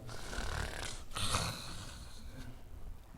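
A preacher imitates loud snoring with his voice, one long rasping snore swelling near the middle of a short stretch, delivered close and alone during a church sermon.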